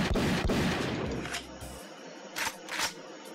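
Self-made shotgun sound effects for a video game, a loud broadband blast at the start with a second crack, a decaying tail, then two shorter bright bursts later, likely pump or reload clicks, with no talking.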